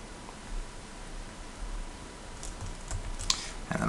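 Typing on a computer keyboard, soft irregular key clicks under a steady hiss, with a few sharper taps toward the end.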